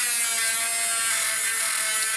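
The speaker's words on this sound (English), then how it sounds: "I'm going to start sanding and filing this down" A lock pick is sanded and filed with a power tool, a continuous high-pitched buzzing whine that stays loud and steady, with no talking.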